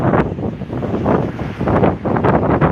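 Strong gusts buffet the microphone in heavy, rumbling bursts, rising and falling without a break.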